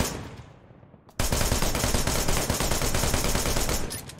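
In the Wanted: Dead action game, a fading rumble gives way to a sudden, sustained stream of loud automatic gunfire that rattles on steadily for about three seconds.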